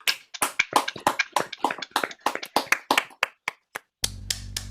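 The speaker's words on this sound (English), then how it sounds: "Let's give them a round of applause too." A small group claps in a loose, uneven round of applause, distinct close handclaps that thin out and stop after about four seconds, leaving a low hum.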